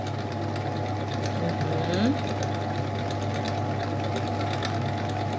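An electric mixer whips red velvet cake batter with a steady motor whine that lifts in pitch as the speed rises, running continuously close by with some kitchen background.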